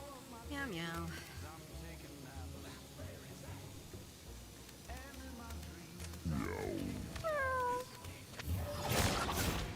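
Cartoonish cat meows from the video game Mewgenics, several rising and falling calls over steady game music and sound effects, with a burst of noise near the end.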